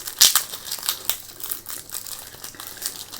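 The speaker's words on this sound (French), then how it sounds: "On va essayer un peu d'ouvrir les paquets." Booster packs for a card game being torn open, their foil wrappers crinkling and crackling in irregular bursts, loudest near the start, with no talking.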